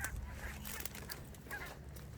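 A few short duck calls ring out on a beach against a steady outdoor rush of wind or surf, moderately distant.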